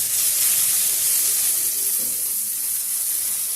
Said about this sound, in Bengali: এইভাবে সবজিগুলো ভালো করে একটু ভেজে নিতে হবে।